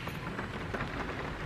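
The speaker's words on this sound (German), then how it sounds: "das regnet ja richtig doll" Heavy rain falls steadily outside a bubble tea shop, a dense, even hiss of drops pattering on surfaces, continuous and close throughout the short stretch with no voices.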